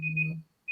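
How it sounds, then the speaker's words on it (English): A phone buzzer going off, a short steady electronic tone with a low hum beneath it, then a brief pause before the tone starts again. "My phone buzzer went off"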